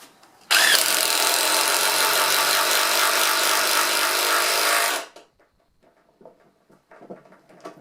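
A ToolPRO cordless impact driver drives a screw into pine wood with a loud, continuous buzzing whir of about four seconds, ending abruptly, followed by quiet handling clicks and rustles.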